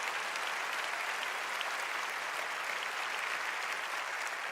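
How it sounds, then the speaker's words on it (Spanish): A church congregation applauds in a steady, dense wash of clapping from many hands that fills the room evenly from start to finish. "Dale un fuerte aplauso a Jesús."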